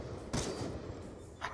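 Two sharp bursts of gunfire ring out in an online first-person shooter during a search and destroy round, the first near the start and the second just before the end, over faint background game noise.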